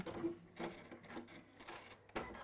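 A sewing machine runs in short bursts, with several brief stitching runs and a sharper start near the end, each fairly quiet and close.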